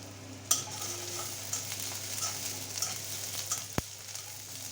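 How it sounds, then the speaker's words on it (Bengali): A spice paste with cinnamon, cardamom and chopped green chili fries in a pan. A gentle sizzle runs under repeated scraping stir strokes, ending with a sharp knock near the close. "পেস্টটা আমি লাল লাল করে ভেজে নেব"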